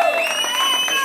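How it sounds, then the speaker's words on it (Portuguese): Guests at a birthday party in Guarulhos clap and cheer for the mother, a brief burst of crowd applause with whoops, mixed with sustained music tones and some voices. "Pessoal, palmas pra mamãe!"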